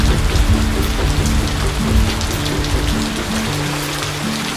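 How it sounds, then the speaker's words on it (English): Steady, loud rain pours down on a surface, with dense pattering and a low, constant wash throughout and no voices. "Wind and rain buffeted Edward."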